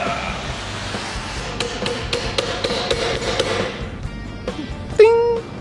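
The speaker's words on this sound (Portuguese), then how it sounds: "o próximo passo é fazer tipo um apoio para martelar e modelar o metal" Hammer blows strike red-hot metal on an improvised anvil support during forging away from the workshop, a quick run of sharp, evenly spaced metallic strikes close by, ending with a louder ringing clang.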